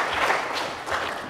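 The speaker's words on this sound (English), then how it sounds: "I'm glad some of you clapped about that" Scattered audience applause at a public banking conference talk rises and dips briefly, a soft diffuse patter of many hands heard from a moderate distance with no speech over it.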